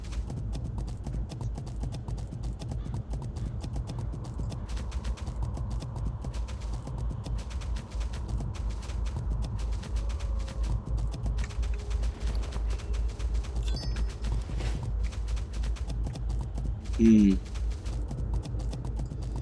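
Hooves of a horse mount clip-clop steadily in World of Warcraft, a continuous rhythmic trot over game ambience, with a short chime near the end.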